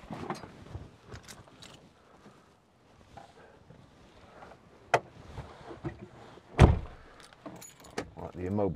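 Keys jangle at a 2015 Land Rover Defender 90 2.2 TDCi station wagon, with light metallic rattles, a few sharp clicks and a heavier thud near the end, close against wind noise, with someone talking briefly.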